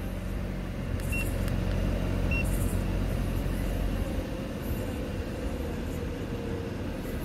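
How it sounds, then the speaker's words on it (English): Car engine running steady and fairly close, a continuous low rumble with a couple of faint high beeps near the start, no ignition crank clearly picked out. "Okay, gotta start the car."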